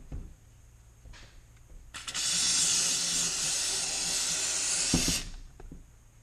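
Steam cleaner used on parts of a 195k-mile BMW E46 M3, a loud, sharp continuous hiss lasting about three seconds that starts and stops abruptly, with faint handling clicks before and after.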